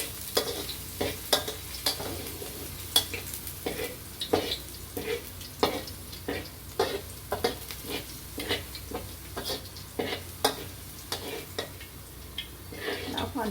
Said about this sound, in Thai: ใส่น้ำมันร้อนเสร็จเราก็ใส่กระเทียมกระเลยค่ะ